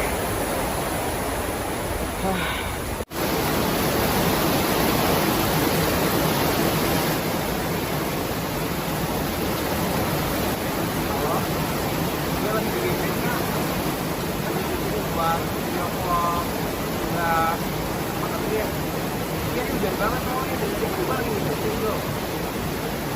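Heavy rain pours steadily and loudly on an open outdoor spot, a dense, even hiss that never lets up, with a sharp knock near the start.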